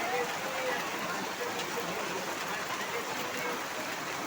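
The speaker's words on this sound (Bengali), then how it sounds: "জমের বৃষ্টি নামতেছে" Heavy rain pours down outdoors at a village school in Faridpur, flooding the road. It makes a dense, continuous roar of rain on surfaces that stays loud and steady throughout.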